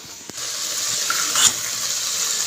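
Carrots with spices are sautéed in a pan for a kabuli chickpea dish, giving a soft, steady sizzle with a brief scrape or clink of stirring partway through.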